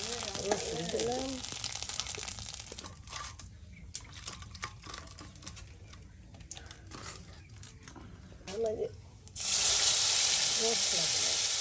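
Garlic frying in oil in a pot on a clay stove, a soft crackling hiss that swells into a loud, dense sizzle near the end, with a voice speaking briefly over it.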